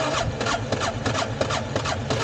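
Motorcycle with a fuel-flooded carburetor after a fall, the starter cranking over and over in a rapid rhythmic churn, up close, without the engine catching.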